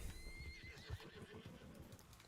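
A horse in the video game Red Dead Online neighs and whinnies with a rising, wavering call over low rumbling ambience and a few hoof clops, fairly close and clear, with no talking.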